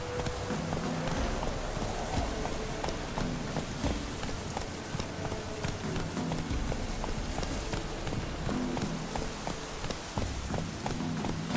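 Roach, a horse in The Witcher 3, gallops with a steady, rapid drumming of hooves under a dense wash of rain-like noise, moderately faint and continuous throughout.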